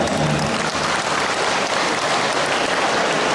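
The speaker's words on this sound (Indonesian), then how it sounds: "Tepuk tangan ya Pak." Dense, loud, continuous applause from a large crowd at a government religious gathering in Lampung Tengah, Indonesia, a constant hiss-like roar of many hands.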